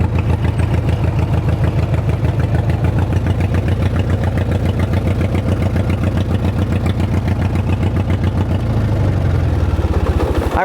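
A small engine, likely a mini bike or go-kart motor, idles loud and steady in first gear with a rapid even putter, then dips and changes pitch near the end.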